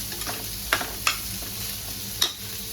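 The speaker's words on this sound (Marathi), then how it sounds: "आता हा असा कांदा भाजून झाला आहे" Onions sizzling in a hot pan, a steady close frying hiss with a few clinks of a spoon stirring.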